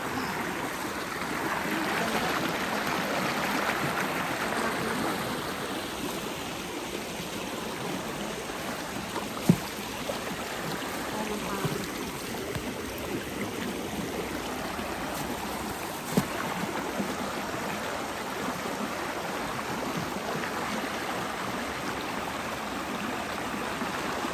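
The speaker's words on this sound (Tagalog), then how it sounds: "Ganda ng ilog dito." A river flowing in a continuous soft rushing and burbling wash at moderate distance, with a couple of brief faint knocks along the way.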